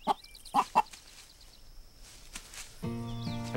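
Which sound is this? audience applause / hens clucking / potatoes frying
hens clucking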